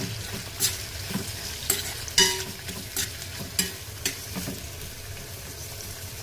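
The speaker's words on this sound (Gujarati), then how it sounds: "ડુંગળી કાપેલી છે, હું એની અંદર નાખી દઈશ અને એને હલાવી દઈશ" Chopped onions tossed into a pan of sautéed garlic and stirred, giving a steady sizzle broken by several sharp scraping strokes of a spoon against the pan, close up with no voices.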